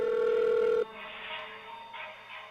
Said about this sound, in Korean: 점점 더 커지는 벨소리.